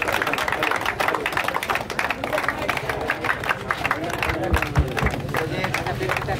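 A crowd at a college sports event claps hard for the players, a continuous dense patter of applause with general hubbub and voices mixed in.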